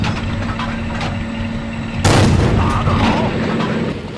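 A single loud tank cannon blast in World of Tanks bursts out midway through a low, steady engine drone, then trails into a rough, rumbling decay.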